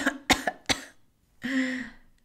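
A few sharp coughs in quick succession, followed by a longer throat-clearing cough, close and alone with no talk.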